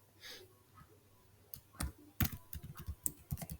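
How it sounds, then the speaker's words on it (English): Password being typed on a computer keyboard, a quick run of close, crisp key clicks in an uneven rhythm, with no talking. "then I will type the password"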